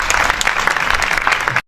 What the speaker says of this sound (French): Et je vous prie vraiment d'applaudir pour eux.